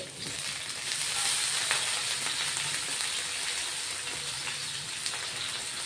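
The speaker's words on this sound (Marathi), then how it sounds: "थोडासा पाण्याचा हपका मारणार आहे." Water is splashed onto green chillies frying on a hot tawa, giving a loud, dense, continuous sizzle that swells and holds steady.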